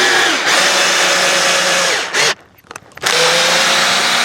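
A power drill drives a screw through butyl tape into camper trim, whirring loudly and steadily, pausing briefly with a few clicks, then running again close up.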